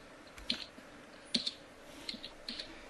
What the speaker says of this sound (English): I was just typing in the acronym